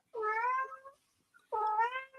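A cat meows twice near a router, each call drawn out and clear, close to the listener, with a short quiet pause between them and no talking.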